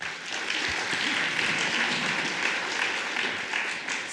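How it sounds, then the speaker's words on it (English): A legal tech event crowd at Slush 2018 applauds a privacy startup presenter, sustained, even clapping from many hands that fills the room at moderate level before tapering slightly at the end. "So let's give him a round of applause."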